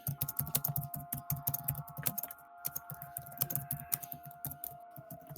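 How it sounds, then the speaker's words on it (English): Rapid, steady typing on a computer keyboard, with dense clicks and clatter of keys running throughout, close and fairly loud, over a faint constant background hum. "All this typing"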